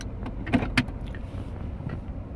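Power window motor of a 2015 Nissan Altima whirring briefly close by inside the car, with a couple of faint clicks and no talking.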